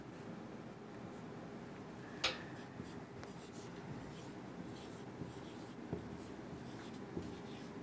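A pen or marker writing on a board or paper during a hexadecimal number lesson, heard as faint, steady scratching strokes with one or two soft taps over a low background hiss.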